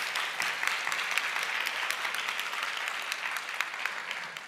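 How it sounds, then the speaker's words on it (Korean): Church congregation applauding newlyweds during a Sunday worship service in Seattle, a steady wash of many hands clapping at moderate distance that continues evenly throughout. "축하의 박수 한번 부탁드립니다."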